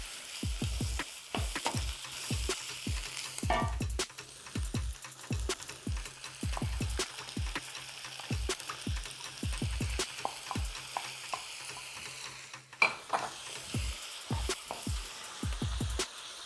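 Fresh flat rice noodles fry in a hot carbon steel wok, a steady sizzle broken by a long run of sharp clanging strikes and scrapes of a utensil against the metal, close and loud, with no talking.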